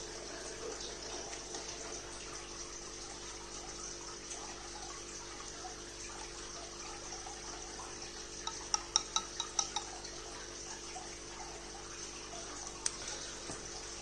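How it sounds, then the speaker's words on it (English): Water poured into the small test tube of an aquarium chlorine test kit, a steady soft trickle with a few brief clinks of glass partway through, heard close and alone. "So let's fill water into their test tube itself."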